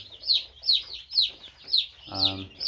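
Baby chicks under warm brooder lights, part of a batch of a hundred, give a run of shrill, evenly spaced peeps close by, with a brief low voice near the end.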